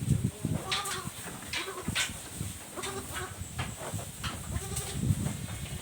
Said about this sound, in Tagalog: Kung mga bisiro, kambing namin, na bagong panganak yan